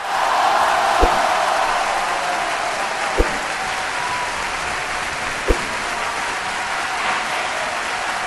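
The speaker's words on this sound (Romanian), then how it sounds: "prea multe aplauze false" Applause sound effect plays as a steady wash of clapping from a crowd throughout, fairly loud and continuous, with a few sharp thumps punctuating it.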